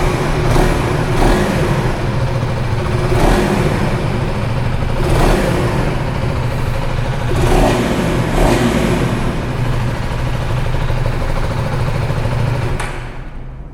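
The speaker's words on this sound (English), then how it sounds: "Just a little bit of throttle." Close by, a 2025 KTM 390 Adventure X motorcycle sits at idle and takes repeated short blips of throttle, its exhaust rising in several sharp revs over a steady thrum before cutting off at the end.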